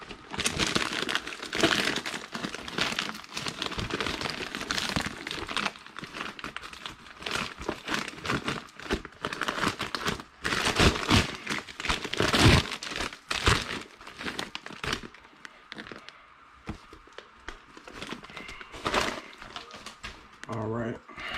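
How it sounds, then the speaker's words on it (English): A small knife slices open a mail package, with repeated crinkling and tearing of wrapping material and occasional thunks, close and busy, mixed with someone talking throughout. "Let me get my little knife. I'm gonna get this cut open"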